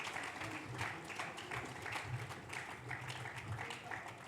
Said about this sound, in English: please give them a big round of applause for the wonderful work they have done in their respective fields